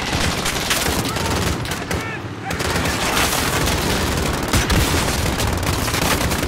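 Modern Warfare campaign combat: dense, loud gunfire and booming blasts from the game roll on almost without pause, with a brief dip midway.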